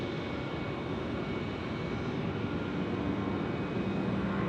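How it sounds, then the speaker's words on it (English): A China Eastern airliner takes off from the main runway at night in Melbourne, a distant, steady jet roar that stays broad and constant from start to finish. "China Eastern getting away off the main runway here now"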